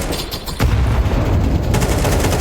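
A stack of grenades bursting amid steady automatic gunfire in a Counter-Strike 2 match on the Ancient map, loud and dense, with a heavy blast about half a second in and constant rattling shots throughout.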